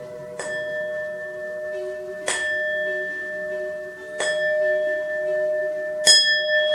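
Singing bowl struck four times with a striker, each strike ringing out with a bright metallic onset and a long sustained tone that keeps humming between strikes, the last strike slightly louder.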